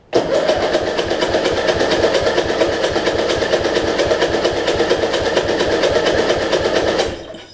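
A $40 Craftsman riding mower's engine cranks with a fast, even chugging rhythm for about seven seconds without catching, then cuts off abruptly.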